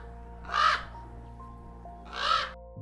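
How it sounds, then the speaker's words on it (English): Two harsh, loud crow caws, spaced well apart, ring out over a faint steady background hum. "A crow has a familiar caw-caw sound."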